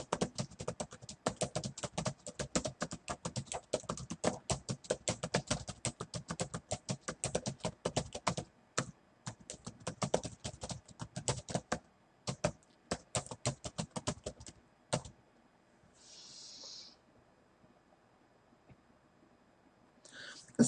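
Rapid, dense clicking of fingers typing on a computer keyboard runs steadily for about fifteen seconds, breaks off briefly midway, then gives way to near silence with a couple of faint stray noises.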